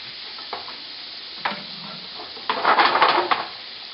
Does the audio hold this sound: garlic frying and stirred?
yes